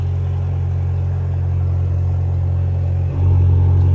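A car engine rumbles loudly and steadily nearby, a deep idling drone that briefly dips and then swells a little louder near the end.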